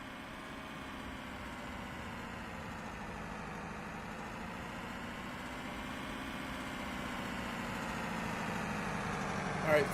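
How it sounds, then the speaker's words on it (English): Fuel truck engine idling beside an Airbus A320neo in Microsoft Flight Simulator 2024, a steady low drone with constant harmonic hum throughout, slightly louder near the end. "All right, fuel truck's here."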